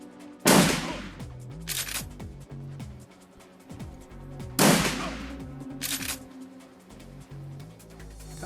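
Gunfire in the Shadowrun Returns video game: two loud bursts of shots a few seconds apart, each trailed by rapid follow-up cracks, over a steady synthetic game score with no talking.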